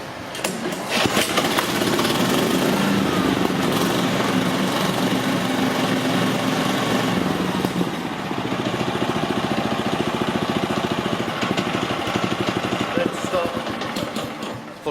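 A Chapman ATV paddock topper engine cranks and starts on full choke, then runs as a loud, steady small-engine idle and holds that even running through to the end, with someone talking over it.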